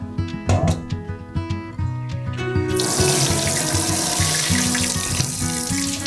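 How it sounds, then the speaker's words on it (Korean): Fresh perilla leaves rinsed under a running kitchen tap: after a few seconds of soft background music, a steady, close rush of water pours continuously to the end, with no talking. "흐르는 물에 잘 씻어준 후 물기를 빼내줍니다"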